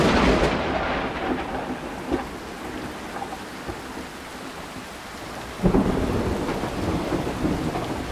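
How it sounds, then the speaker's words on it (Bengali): A thunderstorm roars with heavy, steady downpour and gusting wind, and thunder cracks and rumbles through it, a sharp clap near the middle standing out above the constant wash of rain. "পরের দিন মুষলধারে শুরু হয়েছে বৃষ্টি, হু হু করে বইছে হাওয়া, বাজের শব্দে কেঁপে উঠছে পরিবেশ"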